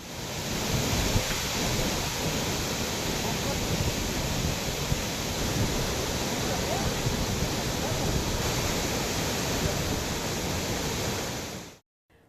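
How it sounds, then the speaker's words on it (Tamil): Heavy rain pours steadily with a dense, continuous roar across Salem district in Tamil Nadu, the rumble of thunder blended into the downpour, loud and unbroken with no voices, ending abruptly. "1 மணி நேரத்திற்கும் மேலாக கனமழை பெய்தது"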